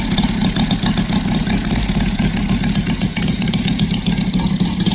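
A Saito FG-60 R3 model aircraft engine idles steadily with a rapid, even chugging and buzzy tone, close and constant throughout, no voices.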